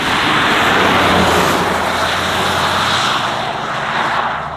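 An Audi e-tron GT electric car accelerating hard, heard as a loud, steady, broadband roar of rushing wind and road noise that holds constant and fades slightly near the end, with no voices.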